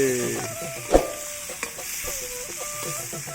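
Chital fish fries in hot oil in a pan for a harvest-festival meal, producing a steady, close sizzle with a couple of sharper pops and clatters. A faint tonal background murmur sits beneath it.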